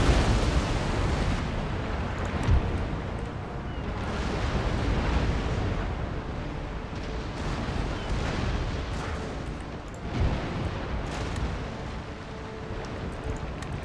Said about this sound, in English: Let's fire a small broadside with 6 guns.